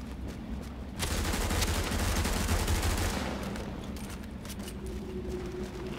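Gunfire bursts in The Division's Dark Zone, a dense rapid volley rising suddenly and sustained for a couple of seconds over steady game ambience, then easing into continued background rumble.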